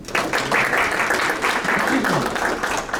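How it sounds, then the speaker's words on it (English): Applause at a public school board meeting, a steady patter of many hands clapping in a room for the full few seconds, fairly loud and continuous, with faint voices underneath. "let's give them a round of applause"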